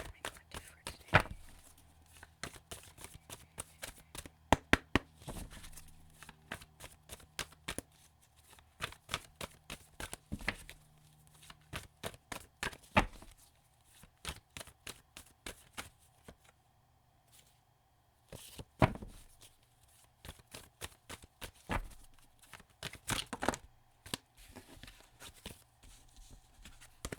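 Tarot cards are shuffled by hand for a daily draw, with quiet irregular riffles and taps, close and soft, separated by short pauses.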